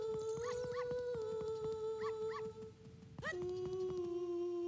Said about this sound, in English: as long as the dog is following us, we can head out here